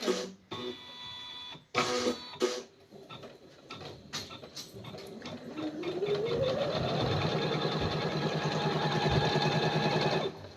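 Sewing machine stitching a patch onto a suit: a few clattering starts and stops, then the motor spins up into a steady, fast, rhythmic rattle of stitching. The machine sounds fairly close but moderately quiet.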